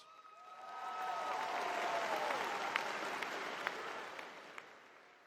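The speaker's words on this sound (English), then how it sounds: "Let's give them another round of applause." Applause from a high school graduation crowd swells and then fades gradually, a broad steady clatter with occasional louder claps standing out, heard from some distance.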